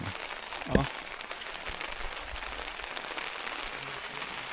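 Rain keeps falling on a cold night at a mountain campsite in Atok, Benguet, an even soft hiss of drops with one sharp knock or rustle early on and no voices.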